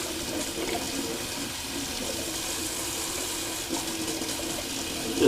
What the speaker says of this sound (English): Just rinsing off my razor real quick there.